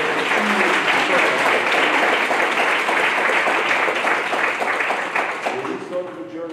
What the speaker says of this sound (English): y'all give a round of applause for Michelle